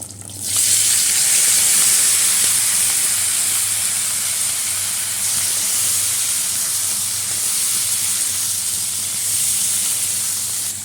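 Chopped potato, onion and green chilli hit hot oil tempered with nigella seeds, setting off a loud, steady sizzle right up close. It holds evenly for about ten seconds with no talking.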